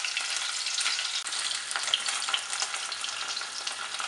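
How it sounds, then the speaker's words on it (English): Pieces of rohu fish fry in a pan of hot oil, giving a loud, steady crackling sizzle with small pops throughout and no talking. "Now fry the fish. Fry for few minutes."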